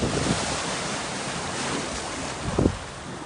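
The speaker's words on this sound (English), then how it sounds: "As you see, many waves in." Waves breaking on the Black Sea coast near Fatsa, Turkey, heard as a continuous loud wash of surf with wind noise on the microphone and a sharper crash of water near the end.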